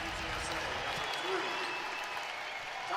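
A college basketball crowd at Arkansas vs UTSA roars and applauds after a blocked shot, a steady dense swell of cheering lasting a few seconds while a commentator talks over it.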